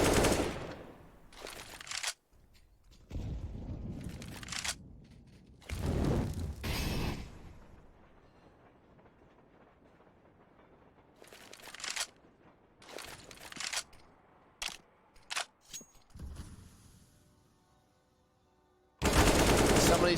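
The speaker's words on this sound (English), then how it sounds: "Somebody sprays up, takes the first man down." Counter-Strike gunfire, rapid automatic sprays and single shots in several separate bursts, loud and close with quiet gaps between them.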